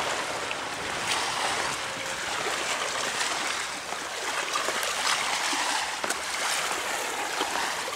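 Seawater surges and washes along a rocky shoreline in a steady, dense rushing hiss, loud and close with no voices.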